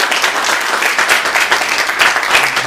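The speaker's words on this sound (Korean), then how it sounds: "박수 좀 부탁드리겠습니다." A church congregation at Sunday worship claps warmly to welcome a visitor, a steady, close wash of many hands with no talk over it.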